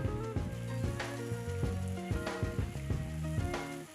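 Chopped tomatoes sizzle steadily in a hot pan, with frequent close clicks and small pops from the spoon and bubbling, and no one speaking.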